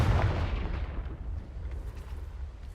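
In the Hogwarts Legacy video game, a Confringo explosion spell detonates with a deep booming blast, loudest at the start and then rolling away into a fading low rumble.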